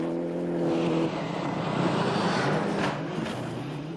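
A Toyota rally car driven on the limit along a snow stage of the 1995 World Rally Championship, its engine roaring loud and steady throughout, with a droning tone that shifts as it passes.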